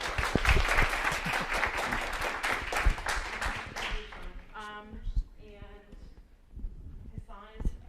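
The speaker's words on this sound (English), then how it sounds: "give one more round of applause" Audience applause from a seminar session audience, dense clapping over the first four seconds that thins out as a voice starts talking, with brief scattered claps continuing under the speech.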